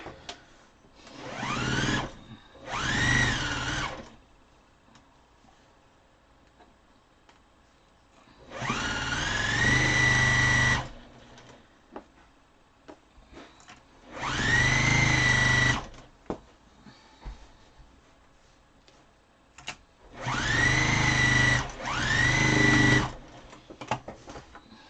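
A sewing machine stitches outdoor star quilt blocks in a quilt-as-you-go project, running in three steady bursts of a couple of seconds each with quiet pauses between, close and clear with no talk.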